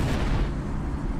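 A warp core self-destruct explosion in the Star Trek Online video game rumbles as one continuous deep, loud roar, steady and heavy throughout with no voices.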